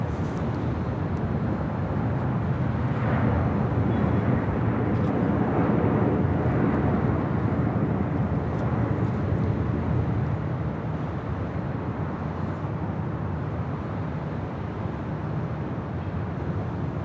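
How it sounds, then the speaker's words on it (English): Air Premia Boeing 787-9 Dreamliner departing LAX for Seoul, a continuous deep jet roar at moderate distance, steady throughout with a slight rise and fall, no voices. "That was Air Premia 102 departing to Seoul on a 787-9 Dreamliner"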